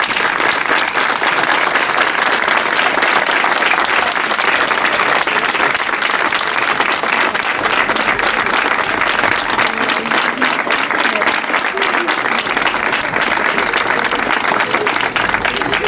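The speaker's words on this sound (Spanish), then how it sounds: "El aplauso más grande para nuestros mayores." Long, loud and sustained applause from a crowd at a nursing home honoring its elderly residents during a Nazarene visit in Abarán, steady and dense throughout, with voices faintly mixed in.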